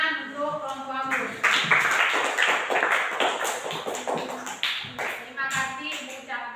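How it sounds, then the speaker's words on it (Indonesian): A classroom of students claps for a group after its presentation, a dense burst of applause with uneven rhythm that continues throughout, close and moderately loud, with scattered voices underneath. "tepuk tangan untuk kelompok Anggur"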